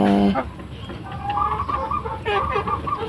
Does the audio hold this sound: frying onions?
no